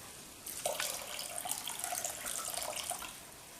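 Soaked dried coconut squeezed by hand through a sieve for coconut milk, giving a steady close trickle and splash of liquid pouring out after a soft start, with no talking.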